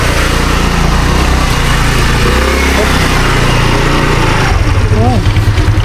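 Motorcycle engine running steadily close by while riding, one of two motorbikes travelling together, with a constant droning hum and people talking over it.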